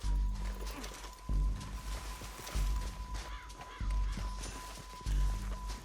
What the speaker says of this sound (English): it looks as though it's my horse has joined me